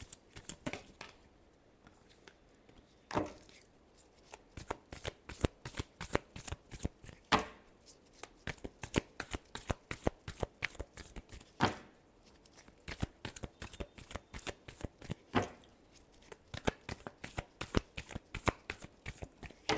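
Tarot cards shuffled over and over in a quick, dense riffling patter, with sharper slaps and taps at intervals of a few seconds, close and alone with no talking.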